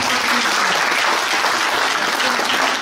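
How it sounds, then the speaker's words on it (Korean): Loud, dense applause from delegates at a regional union chapter's regular delegates' convention, continuous and even from start to finish with no pauses. "동지들 힘찬 박수"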